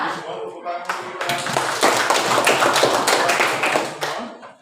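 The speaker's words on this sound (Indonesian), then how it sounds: "tepuk tangan untuk kita" A school class claps hands together at the start of a lesson, a short burst of brisk, close clapping that swells and then fades, with children's voices underneath.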